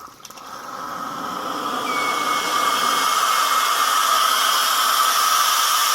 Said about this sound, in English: we got plenty of steam coming out there